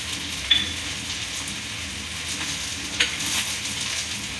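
Onion, garlic and coriander powder sizzle steadily in hot oil for a brinjal masala curry, a continuous close crackle with a couple of brief sharper pops from stirring, no voices.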